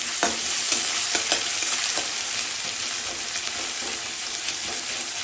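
Chopped onions frying in a pan for a Bengali fish curry, giving a steady close sizzle with occasional stirring clicks and scrapes, no voices.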